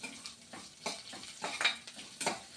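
Ginger and garlic sauté in a pan, a soft sizzle with intermittent scraping stirs and light spoon clinks against the metal, faint and close, no talk.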